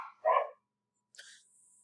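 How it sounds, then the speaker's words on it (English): Dogs barking in a house, a single loud bark followed after a pause by a fainter, higher yelp or whine, brief and slightly distant. "That was my dogs going crazy there."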